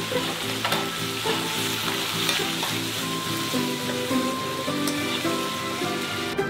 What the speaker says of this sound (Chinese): 再把剁椒加点葱蒜和酱油炒香